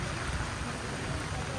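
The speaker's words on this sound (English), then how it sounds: "Very torrential rain here." Torrential rain pours at Hoan Kiem Lake in Hanoi, a dense, steady broadband hiss of heavy downpour filling the scene without a break.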